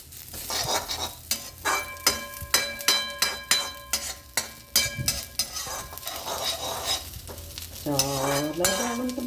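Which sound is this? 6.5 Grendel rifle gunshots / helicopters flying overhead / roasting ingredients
roasting ingredients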